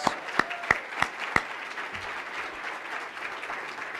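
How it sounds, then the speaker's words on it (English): Brief applause from an audience honoring elected officials at a public meeting: a handful of sharp, separated claps in the first second and a half, then only a quiet room tone. "let's give all of our elected officials a round of applause"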